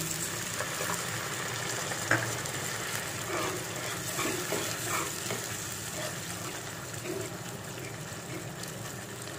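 Rohu fish kalia masala sizzling and frying in a pan as it is stirred, a steady bubbling hiss with occasional scraping knocks, moderately faint and continuous without talk.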